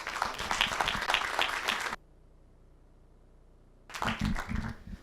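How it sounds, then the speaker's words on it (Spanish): Audience applause for the panelists at a renewable energy workshop, a steady burst of clapping that stops abruptly, then after a quiet gap a second round of clapping begins. "Por favor, un aplauso para nuestros panelistas."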